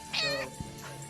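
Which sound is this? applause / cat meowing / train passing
cat meowing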